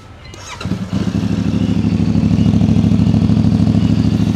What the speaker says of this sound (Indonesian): Ini stasioner teman-teman, jadi suara knalpotnya cukup keras ya, cukup nyaring, tapi suara mesinnya senyap.